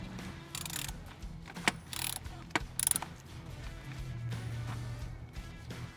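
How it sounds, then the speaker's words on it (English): Ratchet clicking in short bursts as a 10mm nut comes off a Chevy Silverado engine, a few quick sharp ratcheting runs with brief pauses between them, close and fairly quiet. "Remove this 10mm nut right here."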